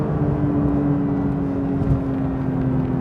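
A Porsche 992 911 GT3 Touring engine drones steadily from inside the cabin with the windows up, a loud, even hum that holds without a clear rise in pitch.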